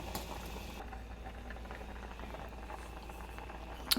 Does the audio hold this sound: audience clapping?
no